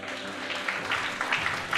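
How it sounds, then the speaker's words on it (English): An audience at an awards ceremony claps steadily for an honored teacher, a dense, moderately loud patter of many hands continuing throughout. "Oh, I thought you clapped for her for that."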